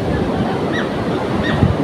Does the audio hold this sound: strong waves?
yes